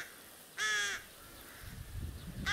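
Rooks near a rural pond give two harsh, loud caws, one short call and then a second starting at the very end, over a quiet background with a low rumble.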